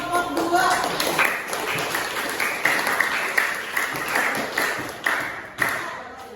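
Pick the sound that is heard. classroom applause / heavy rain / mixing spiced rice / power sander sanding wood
classroom applause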